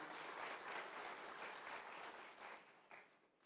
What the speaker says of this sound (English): Please standing, applause for him